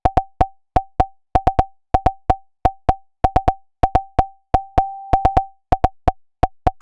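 A Phaser+ synth in Bitwig pings over and over, one ping per trigger, short percussive plops with a bright tonal ring, in an irregular quick rhythm with occasional longer sustained tones, clear and close.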